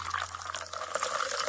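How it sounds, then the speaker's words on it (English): Tonic water pours into a glass with ice, a close bright splashing and fizzing stream with small clinks, steady over a faint low hum. "Then, pour 3 ounces of tonic."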